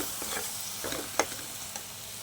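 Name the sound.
grated tomato frying with onion, ginger, garlic masala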